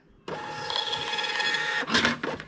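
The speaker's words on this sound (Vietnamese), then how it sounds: "rồi các bạn bấm in thử cái nè" An Xprinter wifi thermal receipt printer prints a test receipt: a sudden start into a steady, close, whirring mechanical buzz that runs about a second and a half, then a short burst of feed and cutter noise at the end.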